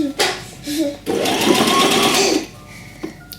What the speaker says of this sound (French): Donc avec la machine, je bloque les 3 couches, je vais faire un point avant-arrière